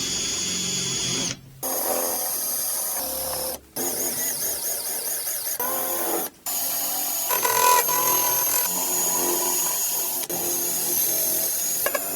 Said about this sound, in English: drill out all of these little heat welds here and see if I can get this box separated